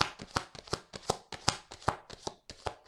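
Petit Lenormand oracle cards are shuffled by hand, close and clear, in a rapid run of riffling slaps and soft taps repeating roughly every third of a second.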